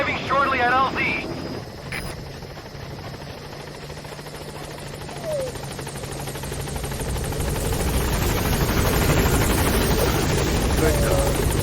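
Helicopter rotor drone from Metal Gear Solid V: The Phantom Pain swells steadily louder over the span as it arrives, a broad whirring roar beneath game sounds and speech.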